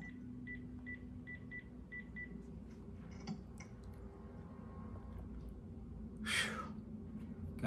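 A telephone keypad is dialed with a quick run of short, evenly spaced tones at low volume, followed by a brief rustle and a sharp burst of noise in a quiet room.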